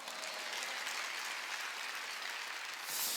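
A church congregation claps steadily throughout a Wednesday worship service, a dense, continuous applause that swells slightly near the end, with no talking.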